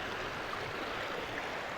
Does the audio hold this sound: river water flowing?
yes